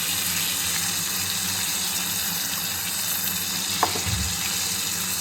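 Pumpkin pieces hit a hot pan of oil, giving a steady, dense sizzle throughout with a brief clatter near the end.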